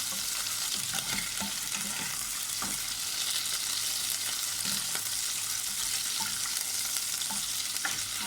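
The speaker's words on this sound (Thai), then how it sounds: "แล้วก็ผัดกุ้งไปให้กุ้งแบบใกล้จะสุกนะคะ" Shrimp stir-fried in a hot pan for tom yum fried rice, a constant close sizzle broken by repeated scraping knocks of a spatula against the pan.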